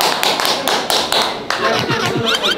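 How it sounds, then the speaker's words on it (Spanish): Scattered hand claps and light tapping, close and lively, with voices chattering over them, in a kitchen. "¡Aplausos!"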